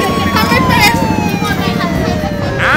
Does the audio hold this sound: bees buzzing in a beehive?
no